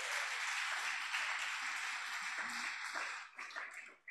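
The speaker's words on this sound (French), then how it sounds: "Acclamez pour elle." Church congregation applauding together, a steady broad wash of clapping that holds for about three seconds, then thins into scattered claps near the end.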